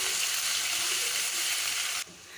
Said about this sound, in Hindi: ये शामिल कर दूँगी और मीडियम ब्राउन इसे कर लूँगी।